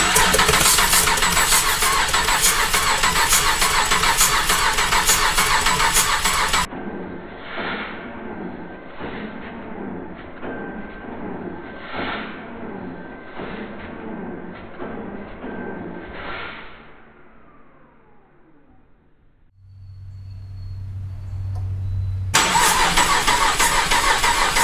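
GM 3.6L GDI V6 engine cranking over and starting, then running with a steady mid-pitched idle and rhythmic pulsing, close up and loud, with a brief quieter low hum near the end.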